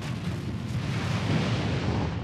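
Cannon towers fire in the tower defense game Defense Grid 2, a dense rumbling barrage of booms that stays steady and fairly subdued throughout.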